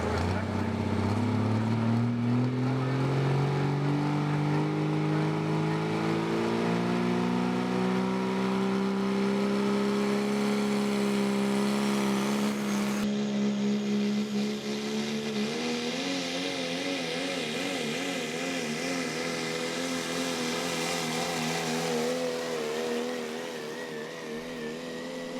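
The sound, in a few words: Chapter 11 super modified truck engine during a truck pull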